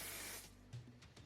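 Hair holding spray released from an aerosol can while styling curled hair, a close, loud hiss lasting about half a second, followed by shorter, fainter bursts.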